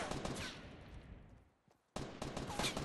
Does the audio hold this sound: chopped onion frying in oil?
no